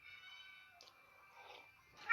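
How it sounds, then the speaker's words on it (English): A cat meows and wails faintly in the background while locked out of a room, a few drawn-out cries over a steady electronic hum. "the cat that you hear in the background is completely fine. He's throwing a tantrum because he's locked out of the crafter."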